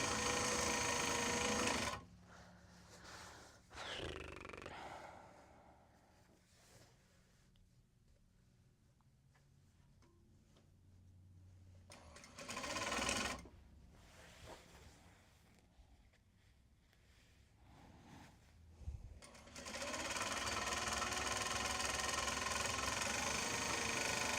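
A sewing machine stitching Japanese fabric for a tote bag runs in steady bursts near the start and through the end, with quieter pauses between runs.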